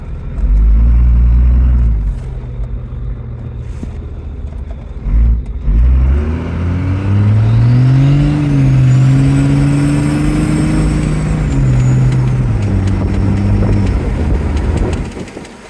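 A 2nd gen Ram Cummins diesel truck with an Allison 6-speed transmission pulling away, its engine note rising and falling as it shifts smoothly through the gears, with a turbo whine climbing above the drone.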